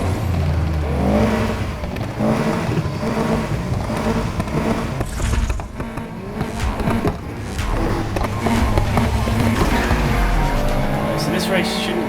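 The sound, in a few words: race car engine in Need For Speed Heat video game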